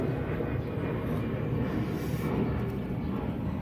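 An airplane passes overhead as a steady, broad roar that holds for the whole stretch, fairly distant and even, at a quail-breeding setup.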